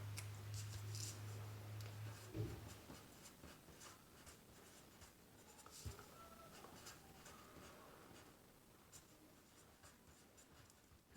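Pen or pencil scratching on paper while a list is written by hand, quiet, close scratchy strokes with small taps running steadily throughout, with no talking.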